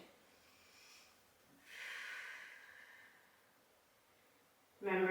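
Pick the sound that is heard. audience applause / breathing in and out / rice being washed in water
breathing in and out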